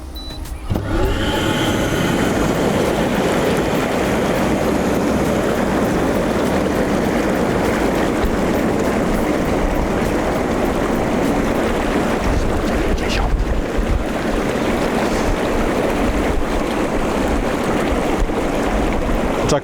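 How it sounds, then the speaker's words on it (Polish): Bestway Lay-Z-Spa Grenada Airjet inflatable garden jacuzzi with its bubble air jets running: a loud, dense, continuous bubbling roar that starts abruptly and holds steady. "Natomiast włączę teraz funkcję bąbelków i zobaczymy,"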